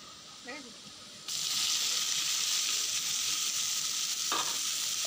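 Leafy greens hit hot oil in a frying pan with a sudden loud sizzle that holds steady as a bright hiss, after a quiet start with a faint voice and a short clink near the end.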